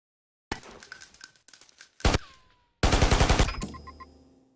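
Video game machine gun fires at targets on a training range, loud bursts of rapid, dense shots with mechanical clatter, broken by short gaps and ending in a longer sustained volley.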